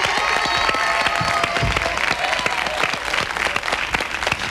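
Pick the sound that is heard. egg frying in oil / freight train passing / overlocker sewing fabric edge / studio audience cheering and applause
studio audience cheering and applause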